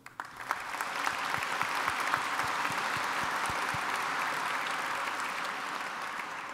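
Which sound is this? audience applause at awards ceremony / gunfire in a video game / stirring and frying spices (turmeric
audience applause at awards ceremony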